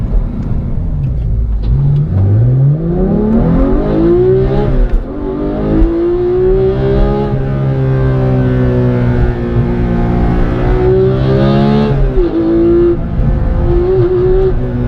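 A manual Porsche 991.2 GT3 engine revs hard while driving on a bumpy road, its loud, steady pitch climbing and dropping through repeated gear changes, close up and continuous over about fifteen seconds with no talk.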